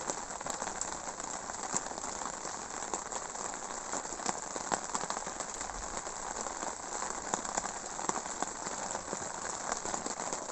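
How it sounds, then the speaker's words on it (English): Steady rain patters on a surface at a wild camp near Thruscross Reservoir, a dense continuous hiss of drops with no pauses, moderately close and even throughout. "Rain's coming back down again."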